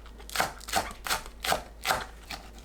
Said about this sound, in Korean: 파를 둥글게 썰어줍니다.